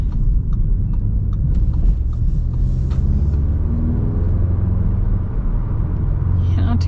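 A 2025 Audi S3 with a turbocharged four-cylinder and dual-clutch gearbox accelerates: a steady, loud engine rumble rising in pitch, heard from inside the car.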